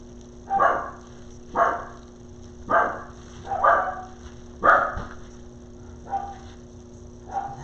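A dog barks seven times at a steady, roughly one-second rhythm, each bark sharp and moderately close, with a low steady hum underneath and no talking.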